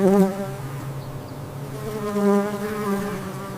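Close, droning buzz of bees with shifting pitch as they hover and move about, loud and continuous with no other sounds.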